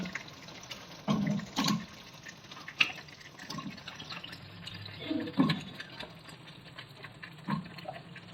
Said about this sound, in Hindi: ये हम थोड़ा सा पानी इसमें ऐड कर देते हैं